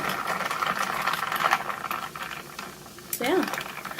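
A straw stirs a canned soda drink in a glass mason jar, giving a close fizzing, rattling swirl while a voice talks over it.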